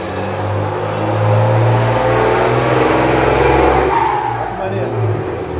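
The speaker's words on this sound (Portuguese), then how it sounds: "olha que carro maneiro que tá passando, isso é um caminhão" A truck drives past outdoors, its engine rumble swelling loud and low before easing off as it moves away, with a voice talking over it and a dog barking faintly.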